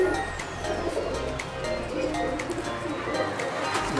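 Pigeons kept in a cage at a pigeon club in Sialkot coo softly against a steady background hum, with someone talking over them throughout.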